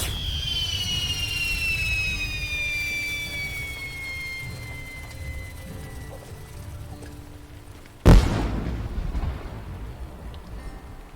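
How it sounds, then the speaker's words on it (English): A massive firework explosion in The Lord of the Rings Online game: a descending whistle fades over several seconds, then a sudden loud blast cracks and rumbles briefly before trailing off. "I heard a massive firework explosion and wonder what the hell is going on."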